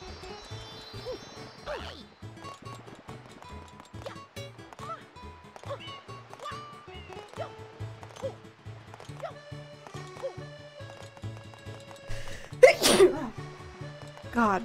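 A single sharp sneeze bursts out near the end, close and loud, amid quiet background game music while people chat during a Super Mario Sunshine play session.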